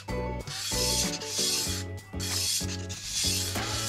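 A hydrofoil edge being sanded flat to under a millimeter thick, with steady rhythmic back-and-forth rubbing strokes, close and even, under a tonal musical background.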